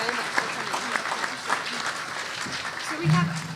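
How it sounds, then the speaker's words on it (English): Applause from an audience fills the room, a steady patter of many hands clapping with a slight swell near the end. "please give our student panel a round of applause."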